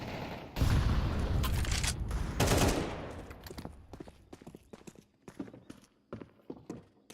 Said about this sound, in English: JW with the AK. Single AK